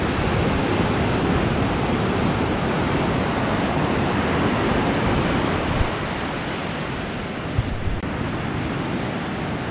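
Ocean surf rolls onto an Australian beach on a Sunday morning in a steady, loud wash of breaking waves with wind, continuous throughout with no voices.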